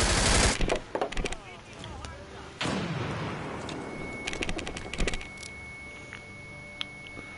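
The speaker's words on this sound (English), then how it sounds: "fire your fucking weapon" Bursts of video game weapon fire, sharp loud shots and rapid rattling volleys with quieter gaps between, some distant pops, and a faint steady tone lingering toward the end.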